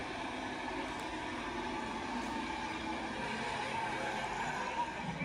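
Continuous engine roar and tire noise from car racing on a big screen, heard steadily at a distance like a broadcast playing in a room.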